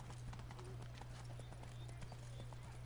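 Horse hooves clip-clop steadily in The Witcher 3, close and continuous beneath a constant low game drone and ambient hum.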